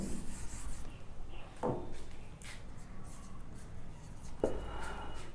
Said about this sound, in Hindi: एक मिनट मैं इसको पहले रब कर दूं